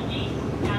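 Steady low rumble inside a Tobu Nikko–Kinugawa line local train while riding, a continuous hum with a faint higher whine.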